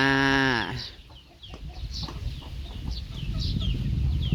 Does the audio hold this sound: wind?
no